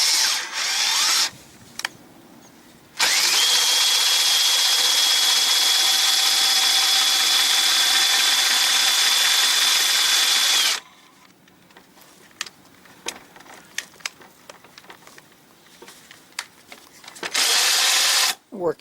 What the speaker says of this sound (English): next I'll just get the cordless drill and work that in and out